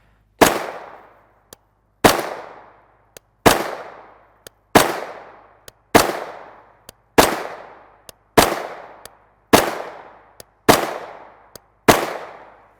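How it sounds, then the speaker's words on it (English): A CZ Scorpion Evo 3 S1 short-barreled rifle fires 9mm 124-grain FMJ in ten loud, evenly spaced single shots about a second apart, each with a sharp crack and a short ringing decay, plus faint metallic clicks between shots. "Now on to my favorite 9mm, our CZ Scorpion Evo 3 S1 SBR."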